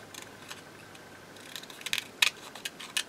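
Small fussy cutting scissors snipping a paper butterfly shape, quiet close crisp snips that start sparse and grow into a cluster of sharper clicks toward the end, with no talking.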